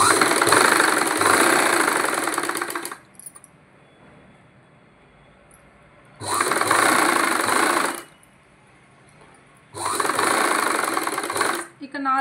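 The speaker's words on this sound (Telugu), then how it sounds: "ఇక్కడ 4 ఇంచెస్ వరకు కూడా స్టిచ్ చేయండి." A sewing machine stitches patiala pant fabric in three loud, steady whirring runs, each a few seconds long, with near-silent pauses between them where the fabric is repositioned.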